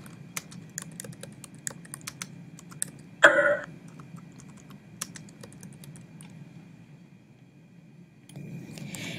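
Steady, quick typing on a computer keyboard, close and fairly quiet, with a brief louder beep partway through and a soft hum underneath.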